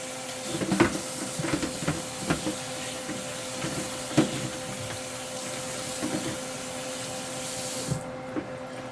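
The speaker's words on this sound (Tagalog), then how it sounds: "yun na po yung chicken feet natin, huhugasan ko muna ulit." Chicken feet being rinsed under a running kitchen tap, a steady hiss of flowing water with intermittent splashes and clatters as the feet are handled, moderately quiet, with the flow cutting off near the end.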